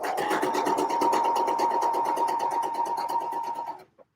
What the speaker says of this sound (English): I'm mid-seam. I've got to stop sewing mid-seam, haven't I?